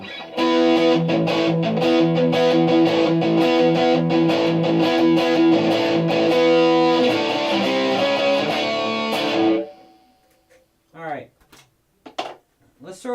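Loud, heavily overdriven electric guitar through a Boss Katana Air amp on its brown sound setting, chugging and ringing chords for several seconds, then cutting off abruptly, followed by faint rustles and clicks.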